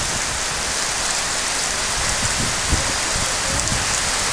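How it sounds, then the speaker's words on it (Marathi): Heavy rain pouring down in Velapur village, a dense, loud, steady hiss of rainfall with scattered drops striking nearby surfaces and no voices. "जोरात पाऊस चालू आहे वेळापूरमध्ये"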